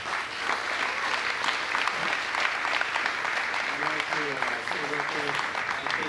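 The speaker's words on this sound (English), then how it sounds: "I think everyone give them a round of applause" Audience at a game audio career talk giving the panel a round of applause, sustained crowd clapping with some cheering, and a voice speaking over the latter part.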